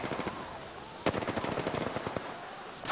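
Video game gunfire in Apex Legends: a quiet run of rapid automatic shots, with a brief burst early and a sharper volley from about one second on, fairly faint and distant.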